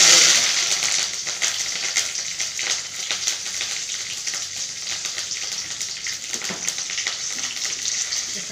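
Mustard seeds and onion frying in hot oil as a tempering for sambar, a steady crackling sizzle with faint popping, and someone speaking over it.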